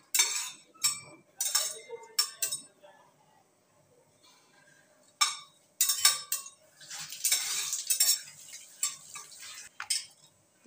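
Whole cloves, peppercorns and bay leaf fry in oil in a pan, heard as intermittent scraping stirs and metallic clinks of a spoon with a light sizzle between, close and clear with quiet gaps.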